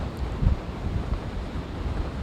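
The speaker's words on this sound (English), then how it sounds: "showing us some pretty breezy conditions there along the beaches" Strong wind gusts buffet the microphone on a beach by Chesapeake Bay, a dense, rumbling low roar with surf-like washing that stays loud and unbroken throughout.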